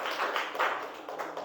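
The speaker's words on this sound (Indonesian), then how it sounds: "tepuk tangan dulu untuk penampilan dari kelompok 1" Classroom applause for a student group's presentation, a brief burst of dense clapping from many hands, close and fairly loud.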